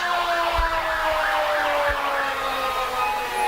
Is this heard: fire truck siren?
yes